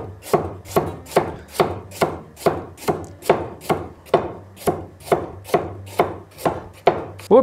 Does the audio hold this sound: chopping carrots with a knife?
yes